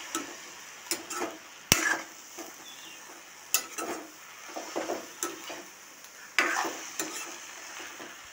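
Dhekia fern greens and chickpeas fry in a pan for an Assamese curry, with a soft sizzle under irregular scraping and clacking stirring strokes.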